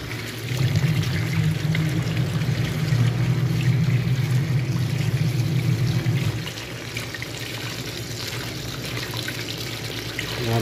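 Water pouring or running over freshly picked fruit being rinsed in a basin, a steady gushing flow for about six seconds that then stops, leaving softer splashing and trickling.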